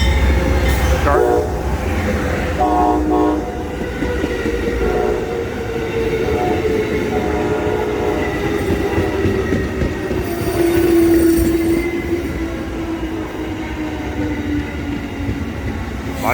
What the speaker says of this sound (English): Silver Meteor 97 is on its way.